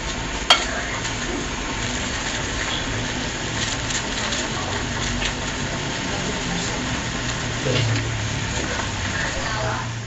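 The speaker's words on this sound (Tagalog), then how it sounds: "After heating the oil for deep frying, drop the calamari to cook just for under a minute until it became brown." Calamari deep fries in hot oil, a steady close crackling sizzle that holds for the whole stretch, with a sharp tap near the start and faint background noise.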